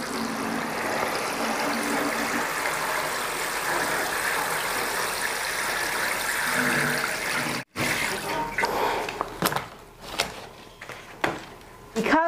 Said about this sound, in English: we will pour the water in here